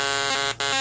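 A circuit-bent Big Red talking pawn toy from the Sorry card game, played dry without an effects pedal, gives a loud, dense, buzzy electronic drone that drops out briefly near the end before surging back.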